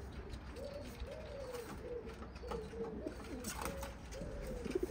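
Racing pigeons in a breeding loft coo repeatedly, a series of soft rolling calls at a steady pace, fairly close, over a low background hum with no talking.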